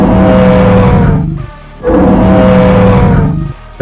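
Retro dinosaur call from the Dinosaur Simulator video game: two loud, sustained tonal bellows, each lasting about one and a half seconds, separated by a short gap, with no other sounds.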